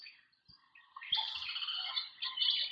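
Recorded birdsong plays in an art exhibit of bird paintings, starting as a few quiet chirps, then swelling into continuous bright twittering and trills, moderately loud and close, with a few soft thumps early on.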